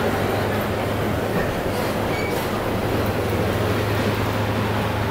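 The Vidarbha Express, an Indian Railway train, pulls slowly out of a crowded Mumbai station. A steady, close rumble of the carriages rolling on the rails continues throughout, with no talk.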